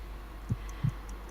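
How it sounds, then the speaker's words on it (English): Heartbeat in the Sherlock Holmes: Crimes & Punishments video game, two soft, low thumps about a third of a second apart, faint against a steady low hum with no talking. "I need to concentrate and count the heartbeats."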